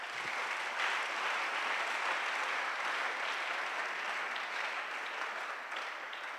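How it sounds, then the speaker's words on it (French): A church congregation breaks into sustained, dense applause acclaiming the Lord, a steady wash of clapping from many hands that stays even throughout and tapers slightly at the end. "Est-ce qu'on peut acclamer le Seigneur?"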